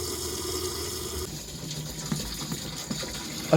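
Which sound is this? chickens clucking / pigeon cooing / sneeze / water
water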